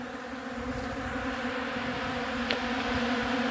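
Steady insect buzzing from honey bees, a continuous droning hum with a few louder passes close by, no voices.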